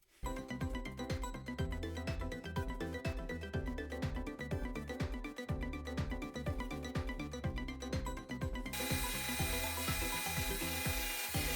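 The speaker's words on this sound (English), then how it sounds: "drill the necessary holes" An electric drill whirs in close, drilling holes in acrylic rings, with repeated rhythmic grinding and tapping as it bites in, ending in a steadier high whine.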